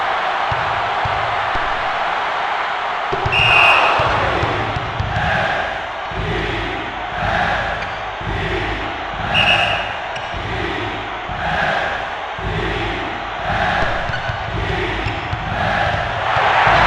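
Constant roaring crowd noise fills a basketball arena in the PS1 game NCAA March Madness 2001, a dense, steady wash of cheering with faint repeated thuds and swells beneath it.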